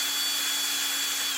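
A sycamore bowl spins on a wood lathe as it is sanded, giving a steady, loud whirring hum with a constant motor tone and abrasive hiss, no talk.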